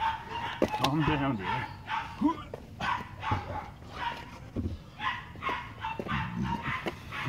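A dog barks in a rough, repeated pattern of short yelps spread over several seconds, close by in a garage while work is done on the rear spring of a Volkswagen Touareg 7L 2.5 TDI R5.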